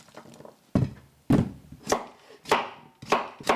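A knife chops onions on a cutting board for a Greek beef stew. Six sharp, close thunks land at uneven intervals, with brief quiet gaps between them.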